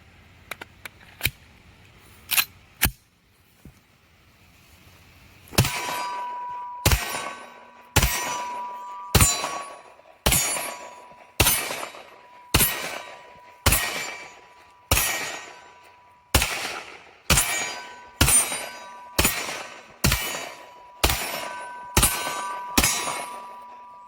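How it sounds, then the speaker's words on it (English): A Generation 1 Glock 17 pistol fires a steady string of about seventeen shots, each a sharp crack ringing out with a bright metallic clang, after a few scattered sharp clicks. "we'll go ahead and get a video of Larry running this generation 1 Glock 17"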